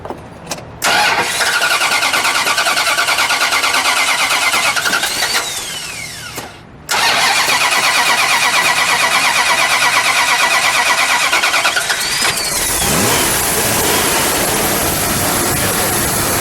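A 1970 Plymouth Cuda Barracuda convertible with a 440 engine cranks and fires up, settles into a loud, close idle, cuts out briefly, then restarts and idles with a rough, steady rumble.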